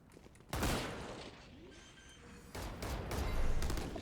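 Gunfire in the video game Valorant, a sharp burst of shots followed by a second sustained volley, heard fairly close.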